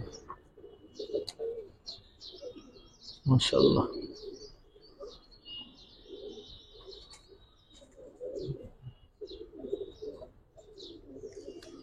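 Domestic pigeons kept as a collector's pair give soft, low cooing murmurs and faint chirps in repeated short bursts, with a sharp clatter near the middle and people talking throughout.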